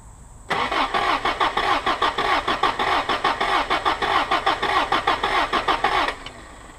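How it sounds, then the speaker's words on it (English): A Toyota 22RE engine in a 1987 4Runner cranks over during a compression test with only three spark plugs fitted, a loud, steady, rhythmic starter churn lasting about five and a half seconds without firing, then stopping abruptly. "Now, it won't crank as fast as it did yesterday because I got three spark plugs in it"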